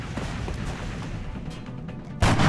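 Gunfire from a soldier's weapon in the XCOM video game, a loud rumbling blast that ends in a sharp, booming burst at the close.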